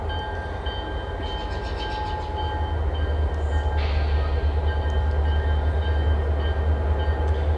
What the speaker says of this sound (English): That's a choo-choo.